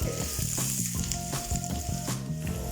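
Mustard seeds, curry leaves, chopped ginger and garlic sizzle loudly in hot oil for fish puttu, a close, crackling fry broken by the repeated scrape and clink of a stirring utensil in the pan.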